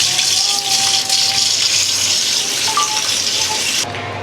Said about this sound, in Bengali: এখন হচ্ছে এই মাছগুলো ধুয়ে নিব।